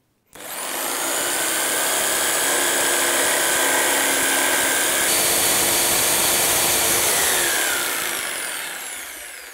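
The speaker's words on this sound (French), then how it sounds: "Vous maintenez bien la scie sauteuse contre la planche. Vous démarrez toujours un petit peu avant de commencer à découper." A jigsaw runs loud and steady for about nine seconds, a continuous buzzing rasp as the blade saws through wood, with a slight pitch change midway.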